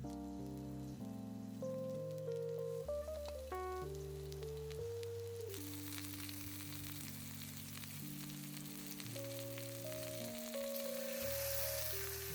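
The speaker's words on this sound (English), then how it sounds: "Next thing to go on the grill are the skewers." Vegan kebab skewers sizzle on a grill oiled with sunflower oil, making a continuous hissing fry under a prominent melody of instrumental music.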